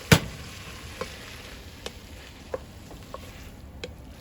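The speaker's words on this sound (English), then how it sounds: "Mix it up with the onions" Sauerkraut and onions are stirred while frying in a pan. A sharp opening knock is followed by a steady sizzle and occasional spatula taps, all close and fairly loud, with no talking.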